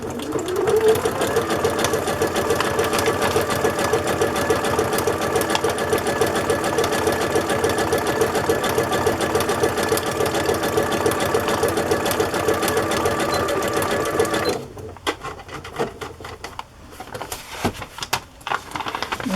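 A sewing machine running a zigzag stitch through a book signature, a loud, steady close mechanical whir for most of the run, then stopping and giving way to a few quieter clicks and handling sounds.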